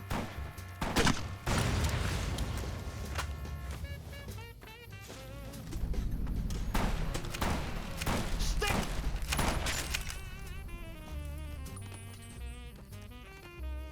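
Rapid gunfire in Fallout New Vegas bursts in clusters of sharp reports and thuds over a steady layer of game noise and music, loud and close, with gaps between volleys.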